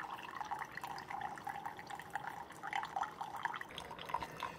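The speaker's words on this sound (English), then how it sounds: "You can see the coffee's coming right out of the bottom of the needle basket" Coffee dripping from a reusable K-Cup needle basket in a Keurig K Express coffee maker, a quiet, irregular patter of drips trickling into a cup, faint and close.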